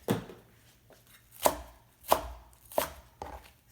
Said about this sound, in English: The green garlic, you just cut into this one off, and this one